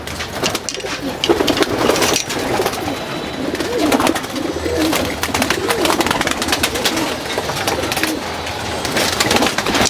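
Pet pigeons kept as a hobby coo and flutter close by, a dense chorus of throaty repeated coos layered with wingbeats and shuffling, continuing steadily without talk.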